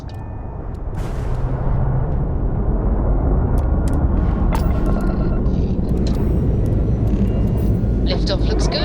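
A spaceship lifting off in the Starfield video game, heard as a loud, steady, broad rumble that swells in over the first second and then holds constant, with scattered small mechanical clicks and tones riding on top.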